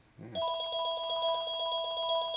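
A telephone rings loudly in a workshop during a Harley 650 single XL Sportster rebuild for land speed racing, one continuous electronic trill that starts abruptly after a short clank and holds steady to the end, with no talk.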